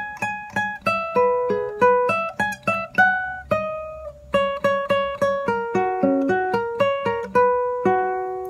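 Plucked guitar phrase, a bachata-style run of quick single notes over low bass tones, played solo and close with crisp attacks and a steady flowing rhythm.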